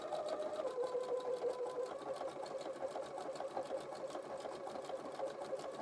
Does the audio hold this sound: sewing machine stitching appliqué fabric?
yes